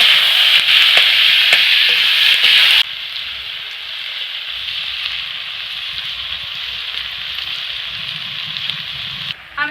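Garlic paste, ginger paste and tomato hit hot oil in a frying pan with a loud hissing sizzle that settles into a quieter steady fry, with occasional stirring scrapes.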